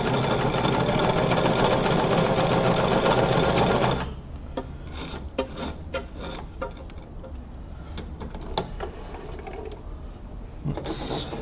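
A Brother VX757 sewing machine stitching steadily and loudly for about four seconds, then stopping, followed by quieter mechanical clicks and handling ticks from the machine.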